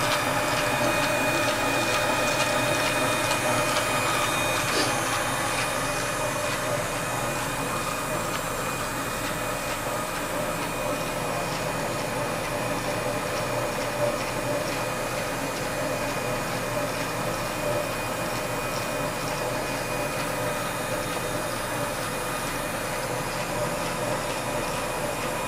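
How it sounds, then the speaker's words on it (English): An ATech Designs PEAK programmable electrode array knitting machine runs steadily, a continuous mechanical whir with rapid repetitive clicking and a faint high whine, close and constant throughout. "And that is the Peak 2 machine."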